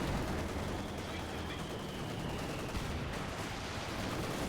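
Coordinated artillery barrage from a Panzer IV command tank in Company of Heroes 2, a continuous rumbling wash of distant blasts and gunfire blended with battle noise, steady and moderately loud throughout.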